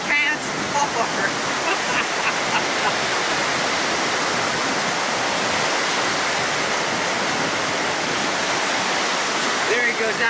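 Ocean waves at Myrtle Beach, a loud, constant wash of surf and rushing water filling the whole stretch without a break.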